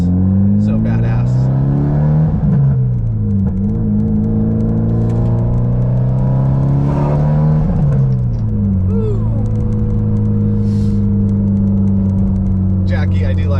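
An EVO fitted with a new downpipe and a full catless ETS exhaust revs hard, its aggressive engine note climbing and dropping through several pulls, loud and close, with voices talking over it.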